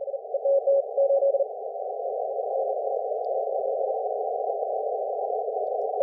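A ham radio gives off a steady tone near in the ear that pulses as a few quick Morse code CW dits and dahs at first. After that it turns into one long unbroken note.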